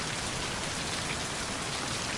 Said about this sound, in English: so we need it to not be raining so that they come down maybe